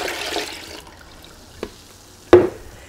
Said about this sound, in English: So I'm just going to put the water in first.